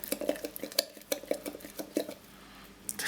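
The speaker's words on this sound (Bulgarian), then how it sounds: "Ето, разбъркваме." Sourdough starter stirred in a bowl, a utensil clinking and scraping against the sides in quick irregular strokes, close and fairly loud with no voices.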